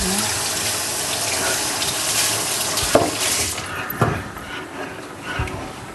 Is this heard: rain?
no